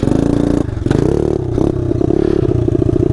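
A pitbike engine revs hard and steadily through a failed second-gear wheelie attempt, its loud buzzing note dipping briefly and climbing again with rapid throttle pulses near the end.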